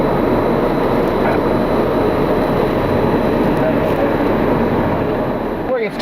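Airliners taxi to their gates at snowy Cleveland Hopkins International Airport in winter, a steady, broad jet engine rumble and whine heard from a distance that holds constant throughout.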